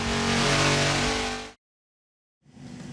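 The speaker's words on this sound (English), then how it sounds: "we have our Godzilla running with our WinDyn5 setup" Loud engine of the Godzilla build revving hard on a SuperFlow dyno for about a second and a half, cutting to silence, then starting up again more quietly near the end.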